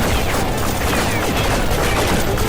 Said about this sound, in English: Are they, like, firing lasers at me?